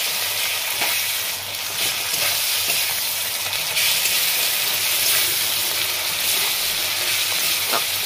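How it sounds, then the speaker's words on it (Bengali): Onions, chopped green chillies and ginger-garlic paste fry in hot oil, a loud continuous sizzle and hiss with scattered crackles and pops, and no talking. "পেঁয়াজগুলো আমার অর্ধেক ভাজা হয়ে গেছে। এবার আদা রসুনের বাটা দিচ্ছিলাম।"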